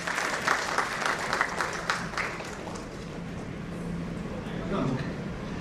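An audience applauds at a Mumbai event on datacenter and cloud solutions, welcoming a data services chairman; dense clapping fades after a couple of seconds into room murmur and a voice.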